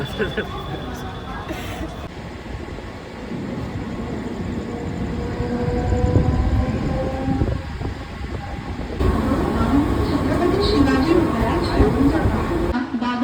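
A Mumbai local train pulls into Kasara railway station with a steady loud rumble and rattle of the carriages, and the rolling noise shifts partway through. Voices talk faintly in the background.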